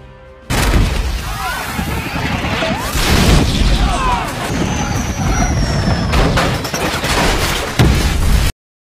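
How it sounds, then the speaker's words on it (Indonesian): A loud cinematic explosion of a helicopter destroyed by an alien aircraft in a film bursts in and rumbles on with crashing debris and roaring blasts for several seconds, then cuts off abruptly. "pesawat alien muncul dan meledakkan helikopternya"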